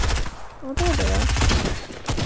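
Rapid automatic gunfire in a battle royale video game, steady rattling bursts running through the whole moment, with a player talking over the shots.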